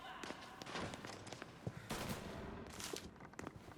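Gunfire in the video game Mafia: Definitive Edition, rapid bursts of machine gun shots and heavy thumps in a street-punk shootout, fairly quiet and dense, with brief rattling volleys and a few footsteps.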